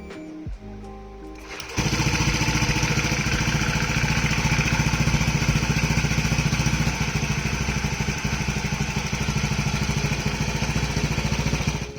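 A motorcycle engine fitted with a low-noise aftermarket exhaust starts after a brief crank and settles into a steady, even idle, with a close, continuous mid-pitched thrum and a fine rapid pulse and no talking.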